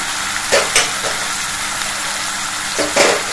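Finely chopped onion fries in a pan for masala turai, giving a steady, loud sizzling hiss with a few brief stirring scrapes rising above it.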